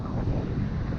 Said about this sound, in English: See, that's how gusty it is.